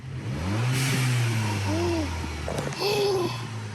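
A car engine revs up, holds a high drone, then eases down before a second shorter rev, loud and close, with a few faint voices in the background.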